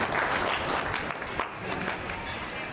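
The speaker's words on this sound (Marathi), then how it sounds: "सर्वांनी टाळ्या वाजवून त्यांचा आभार व्यक्त" A village crowd at a gathering in Waghapur applauds to thank the honoured guests, dense clapping heard close and continuous, with no one speaking.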